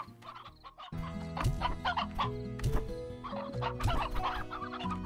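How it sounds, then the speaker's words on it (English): Chickens in the video game Slime Rancher cluck repeatedly in short, busy bursts over a layered musical backdrop, close and fairly loud, with no talking. "There you go chickens, eat your fruit."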